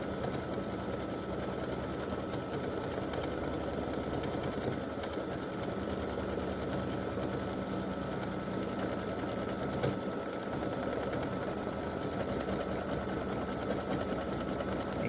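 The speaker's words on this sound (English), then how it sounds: "And this just puts a satin stitch around the whole brim." An embroidery machine runs a satin stitch around the brim of a Christmas gnome's hat applique, a steady fast rhythmic whirring of rapid needle strokes, constant and fairly close, with no talking.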